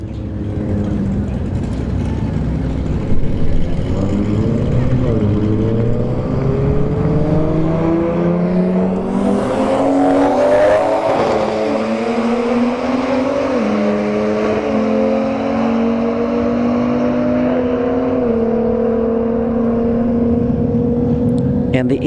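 Genesis G70 and E90 BMW Supra launching side by side at a drag strip, engines revving and climbing through gear changes, rising and shifting in pitch as they pull away, with an announcer talking over the noise.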